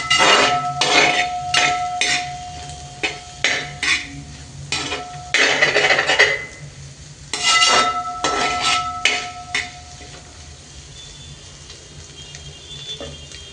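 Metal utensil scraping and clanking in a pan while stir-frying vegetables with pepper for noodles, sharp irregular strikes in clusters near the start, then thinning to faint occasional taps and a quiet sizzle, with no talking.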